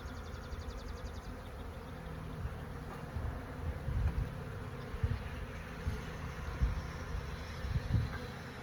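Bees fly in and out of a hive in a continuous close buzzing drone, with occasional soft bumps and knocks from the hive woodwork.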